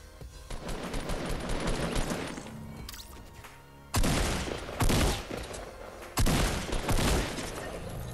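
Rapid gunfire bursts in the video game Fortnite, loud and dense, with heavy volleys sharply punching in near 4, 5 and 6 seconds over a continuous clatter of shots, no voices.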